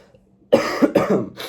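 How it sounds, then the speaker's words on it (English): A few sharp, harsh coughs close to the mic, loud and in quick succession after a moment of quiet. "Sorry, I'm coughing."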